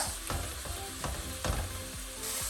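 Pork belly stir-frying in a wok just after a splash of Chinese cooking wine, a loud continuous sizzle broken by several rhythmic metallic scrapes and clanks of a spatula being mixed through.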